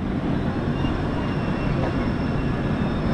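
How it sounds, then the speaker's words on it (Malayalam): Inside the Netravati Express sleeper class as it pulls out of Chiplun railway station on the Konkan Railway, a steady broadband rumble of rolling wheels and carriage noise fills the space, continuous and loud without any talking. "ചിപ്ലിൻ റെയിൽവേ സ്റ്റേഷനിൽ നിന്ന് നമ്മുടെ വണ്ടി ഡിപ്പാർട്ട് ചെയ്തു കേട്ടോ"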